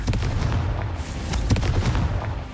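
A Confringo fire spell explodes in Hogwarts Legacy, a heavy booming blast followed by rolling rumbles and crackling impacts that stay loud throughout.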